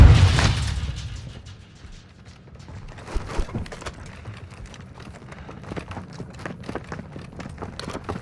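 A stun grenade bursts in a tactical shooter game with a loud, sudden boom at the start that fades into a low rumble, followed by scattered thumps and footsteps.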